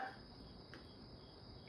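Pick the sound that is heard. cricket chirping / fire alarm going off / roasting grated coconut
cricket chirping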